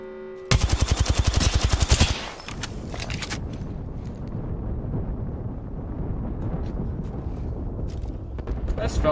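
Rapid automatic fire from a player's gun in PUBG, a loud, evenly spaced burst of shots lasting about a second and a half, then fading into wind and ambient game noise.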